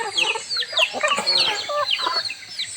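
Native chickens cluck and squawk in quick overlapping bursts at close range while being fed in a rural yard, several birds calling at once with no talk.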